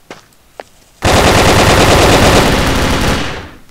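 A long, loud burst of rapid automatic fire from an enemy's big gun in the video game Brick-Force runs for about two seconds after a quiet start with a couple of faint clicks, then tapers off.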